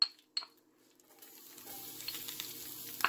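Fresh minced garlic begins to sizzle in a pan, a couple of sharp utensil clinks first, then a soft, steady frying hiss that builds and holds close by.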